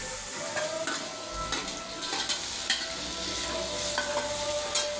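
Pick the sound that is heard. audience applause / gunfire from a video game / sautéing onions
sautéing onions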